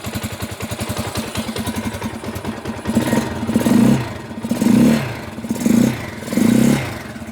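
A 2022 Janus Gryffin 250 Scrambler motorcycle idles with a steady single-cylinder putter, then its throttle is blipped four times in a row, each rev rising quickly and dropping back to idle, close and loud.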